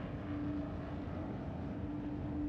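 Starship engines of an RSI Scorpius Antares starting up in Star Citizen, a steady loud low rumble with a faint whine, continuous for the whole stretch with no voices.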